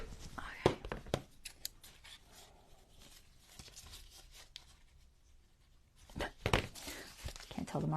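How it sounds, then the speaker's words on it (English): Scissors snip paper for a vintage Paris-themed journal fold-out page, with bursts of crisp cuts at the start and end and a quieter stretch of rustling and handling in between. "Scissors."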